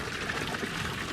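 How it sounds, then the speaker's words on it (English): A small waterfall among boiling hot springs in Yellowstone National Park pours and splashes in a steady rushing wash of water, close and continuous, with no voices. "So there's a little waterfall."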